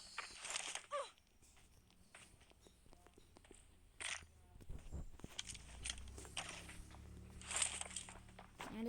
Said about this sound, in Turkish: Şuradan ayak, ayak sesi geliyor.